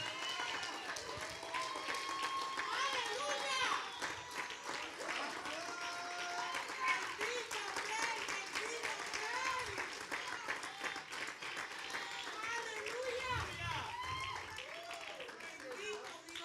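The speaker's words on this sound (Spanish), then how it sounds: "Dale un aplauso al Señor." A church congregation claps for the Lord during a sermon, a steady wash of applause running throughout, with voices and shouts rising over it and a preacher's speech mixed in.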